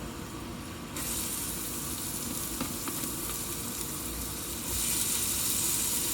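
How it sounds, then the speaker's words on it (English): Garlic and shallot fry for a seafood gumbo, a steady close sizzle that swells louder about a second in and again near the end, with faint stirring scrapes and no talk. "So I'm gonna put garlic, shallot,"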